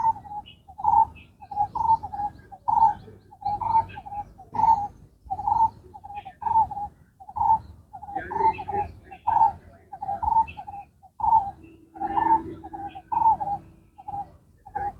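A pigeon or dove coos again and again in a steady, evenly spaced rhythm, close by and fairly loud, during a quiet outdoor yoga and meditation session with no talking over it.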